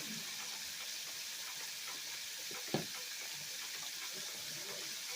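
Steady close sizzling of buttermilk chicken breast frying in a pan, a continuous crackling hiss with one brief clatter midway.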